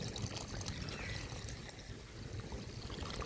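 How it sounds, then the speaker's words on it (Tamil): Coconut milk pours steadily into wheat payasam, a soft continuous liquid trickle and splash heard faintly and close, with no talk. "தேங்காய் பால் சேர்த்திக்கலாங்க"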